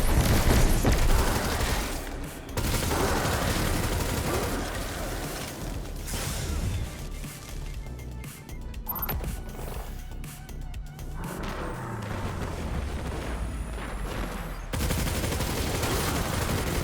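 Rapid automatic weapon fire in a video game: dense, continuous bursts of shots that carry through most of the stretch, with brief gaps and heavy thuds mixed in.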